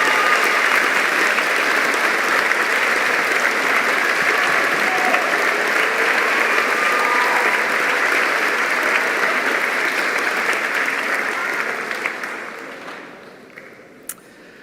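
Graduates at a veterinary medicine and veterinary nursing graduation ceremony give a sustained round of applause to their families, a loud, dense clapping that holds steady before fading out near the end.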